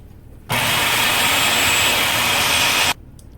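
Electric mixer whipping cauliflower mash with a couple tablespoons of heavy whipping cream, a steady loud whirring drone that starts abruptly, runs unbroken for about two and a half seconds, then cuts off.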